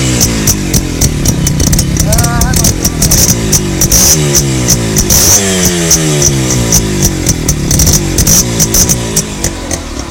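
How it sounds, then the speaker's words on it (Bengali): A Honda H100S CDI motorcycle engine runs loud and close, a buzzing single-cylinder idle with rising and falling revs and ticking mechanical clatter throughout, no one talking. "H100 CDI এর সাউন্ড তো শোনাই হয় নাই, এটার সাউন্ড তো শুনতেই হবে।"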